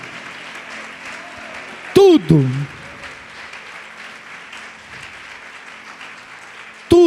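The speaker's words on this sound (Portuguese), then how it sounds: "Você pode aplaudir o Senhor Jesus por isto?" Church congregation clapping in praise of Jesus during a Portuguese-language sermon, a soft, steady bed of applause running under a preacher's loud, emphatic voice.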